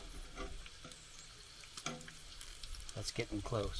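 Bacon crackles in a pan at a campground near Flagstaff, Arizona, a low, continuous sizzle with scattered pops while a person talks briefly over it near the end.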